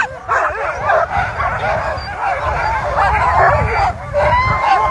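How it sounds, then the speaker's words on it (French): A pack of harnessed sled dogs barks, yips and whines excitedly at the start of a sled-dog race in Chasseradès, a loud, dense and continuous chorus of overlapping voices. "Et regardez, là, les chiens sont prêts à partir."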